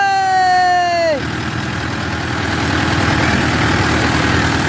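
Mahindra 4x4 tractor engine running steadily in a field, a continuous low rumble with a faint falling whine at the start that fades as the engine settles into a constant drone.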